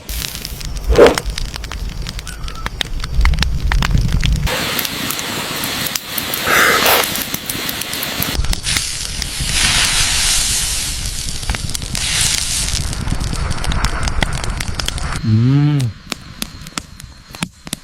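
Wild boar meat roasts over an open fire in an outdoor barbecue setup, giving a steady loud hiss and crackle with brief shifts and a voice near the end.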